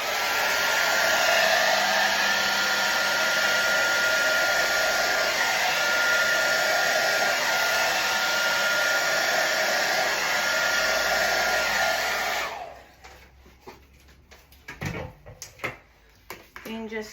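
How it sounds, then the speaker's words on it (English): A hair dryer blows hard and steady at close range to spread paint on a galaxy-style picnic table, then cuts off, leaving faint handling knocks and shuffles. "And then with the hairdryer, I'm going to blow it out."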